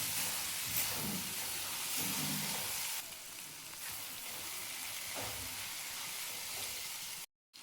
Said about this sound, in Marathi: तेलामध्ये भाजून घ्यायचं.